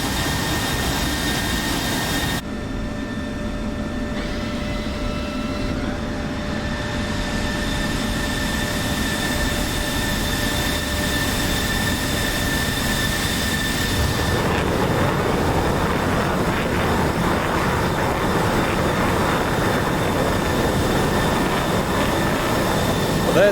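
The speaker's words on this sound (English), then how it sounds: "We will take off without afterburner because we need every drop of fuel we can get." Eurofighter jets taking off without afterburner in the DCS flight simulator, a steady loud jet roar with high whining engine tones that builds and thickens midway, continuous with no speech.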